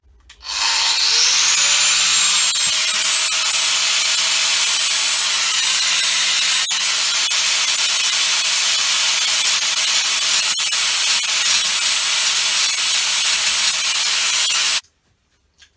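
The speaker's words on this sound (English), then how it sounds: "let's have a bit of fun with this grinder wheel" Grinder wheel grinding steel on a Lister D fuel tank, a loud, steady abrasive whine with a rising pitch as the wheel spins up, running continuously for about fourteen seconds before cutting off abruptly.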